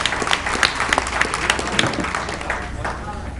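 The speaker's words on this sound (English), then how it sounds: "Give them a big round of applause." A crowd at a live show claps and cheers for the band, dense applause with scattered sharp claps, fairly loud and continuous over the short stretch.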